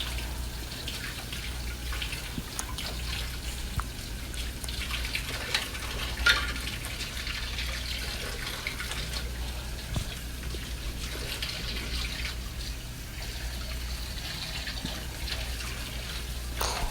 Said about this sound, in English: I also have a little drain catcher in the bottom of my sink to catch the pulp that I'm rinsing off of this.